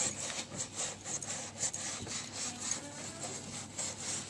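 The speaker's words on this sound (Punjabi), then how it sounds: "ਇਹ ਬੁਰਸ਼ ਨਾਲ ਆਪਾਂ ਸਾਫ਼ ਕਰ ਰਹੇ ਹਾਂ ਜੀ" A brush scrubs the rubber door seal of a dirty fridge in quick, soft back-and-forth strokes, faint and close, with no talk.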